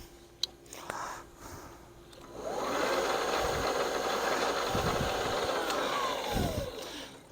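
Allett Liberty 43 scarifier on a Greenworks 40V lithium-ion battery is switched on for a test run, giving a steady whirring, buzzing motor drone for about four seconds after a brief click and a short quiet start.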